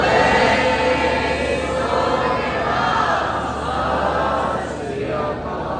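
Audience of counselors and parents at a Camp Gurmat summer camp final program gives sustained applause for the campers, a dense steady wash of clapping and crowd noise that slowly fades near the end.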